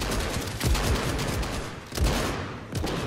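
Shotgun fire in the Fortnite video game: several loud blasts burst out in quick succession, with stronger shots near the start, middle and end over a busy, noisy game mix.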